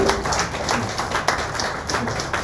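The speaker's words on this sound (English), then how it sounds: "Please just give them a round of applause." Audience applause at a venture capital panel session, a steady, dense patter of many hands clapping at moderate volume across the whole span, with no voices over it.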